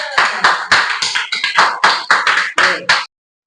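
Hands clapping in a quick irregular series of about a dozen sharp claps lasting three seconds, close and clear, with nothing else audible.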